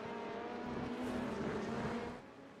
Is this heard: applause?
no